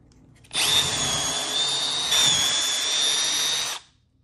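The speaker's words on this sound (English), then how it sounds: "I'm gonna drill holes again" A power drill bores a hole through wood for a homemade dog training platform, one steady high whine lasting about three seconds, close and loud, with a slight shift in pitch midway before cutting off.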